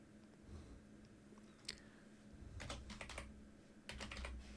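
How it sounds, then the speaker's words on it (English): Faint, close typing on a computer keyboard during a Cisco Packet Tracer network configuration session, with scattered single keystrokes followed by quick clusters of clicking taps in a quiet room. "so we can just type the name for it"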